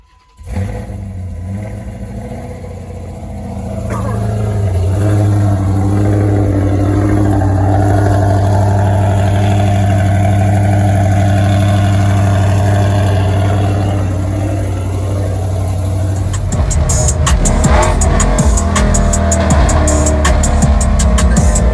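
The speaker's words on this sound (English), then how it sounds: "I'm gonna show y'all how my car sound now with these heads on" A Dodge Charger Hemi V8 with swapped cylinder heads rumbles at a steady, loud idle, then revs up into a rough, aggressive roar near the end, with no voices.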